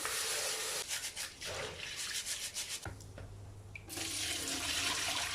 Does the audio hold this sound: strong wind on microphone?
no